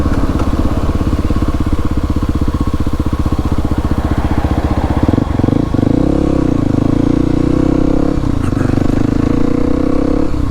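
A Kawasaki KLX 300 dual-sport motorcycle rolling along and pulling over to the roadside, heard as a loud, close single-cylinder engine drone that drops to a lower, wavering idle as the bike slows and stops.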